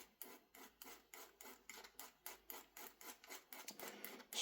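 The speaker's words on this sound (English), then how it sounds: "Slightly filing this back." Slow, even rasping strokes of a file on a part of an Ares M45 X-Class airsoft gun being fitted with a Polarstar Jack HPA engine, about a dozen regular back-and-forth passes, close and fairly quiet.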